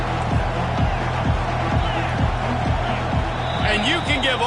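Stadium crowd roar from a college football video game, a dense continuous wash of voices with steady rhythmic stomping or chanting thumps throughout, loud and unbroken, with a brighter burst of cheering near the end.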